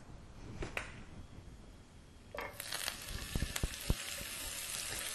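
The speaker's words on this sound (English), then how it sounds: "And then you're going to add the butter as well." Butter dropped into hot olive oil in a medium-high pan begins to sizzle, starting with a few quiet clicks and then giving a bright, steady crackle with scattered louder pops.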